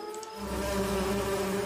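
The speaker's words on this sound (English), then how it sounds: "Okay, the bees." Bees buzzing in a video game, a steady close insect drone that swells in after a brief quiet start and holds at an even level.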